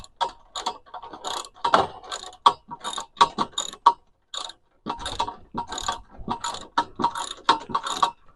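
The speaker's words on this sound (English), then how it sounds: "It's Allen key on one side, and then basically that 10 millimeter socket on the other." A ratchet with a 10 mm socket tightening a bolt on a polytunnel greenhouse frame with a wooden base, giving quick runs of sharp clicking strokes, close and clear, with a short pause partway through.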